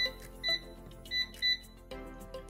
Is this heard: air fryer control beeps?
yes